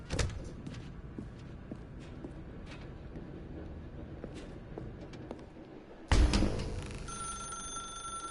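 Old-style telephone bell ringing inside a dark room in the video game The Stanley Parable, a sudden loud ring cutting in after a stretch of low, rumbling ambient noise.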